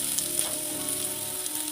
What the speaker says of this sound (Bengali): তেলটা গরম হয়ে গেছে, এবার পেঁয়াজ কুচিটা দিয়ে দেবো